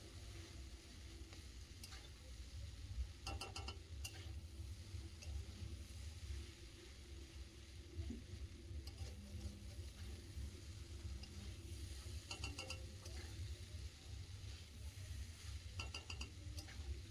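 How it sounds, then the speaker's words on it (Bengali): Pasta is stirred in a pan over a low, steady hiss of frying, with occasional light clinks and scrapes of a utensil against the metal, faint and unhurried throughout. "ভালো করে কিন্তু মিশিয়ে নিতে হবে প্রথমে একবার।"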